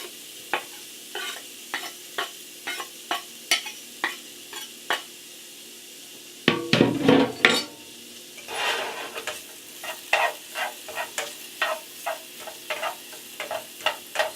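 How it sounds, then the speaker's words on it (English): Bacon goes into a hot pan, setting off a burst of loud crackling and spattering after a run of light, regular taps and clicks, then settling into a sizzle with scattered pops and utensil knocks. "Let's add our bacon to our pan."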